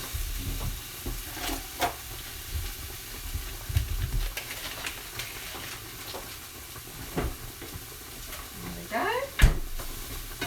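Butter sizzling and frying in a hot pan on a stovetop while being stirred through pumpkin sauce for pappardelle, a steady close hiss with scraping stir strokes and a brief spoken remark.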